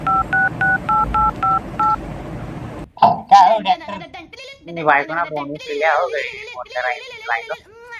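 A phone keypad is dialed in a series of about eight evenly spaced, steady two-tone beeps, followed by close talk from several voices in a comic skit.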